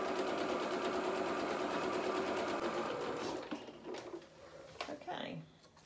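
A sewing machine runs a zigzag stitch along the edge of a fabric skirt panel for a doll's dress, 2.5 width and 2 length, a steady close mechanical whir for about three seconds, then it stops and faint handling sounds follow.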